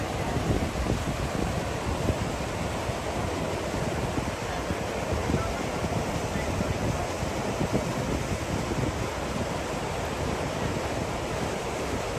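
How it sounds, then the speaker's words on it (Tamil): Water roars steadily at Niagara Falls, a dense, loud rushing wash of a river and falling water that stays constant throughout with no voices. "நதி ஓடுற சவுண்டு அப்புறம் அது கீழே கொட்டுற சவுண்டு இதெல்லாம் கேட்குறப்போ எவ்வளோ இனிமையாக இருக்குது"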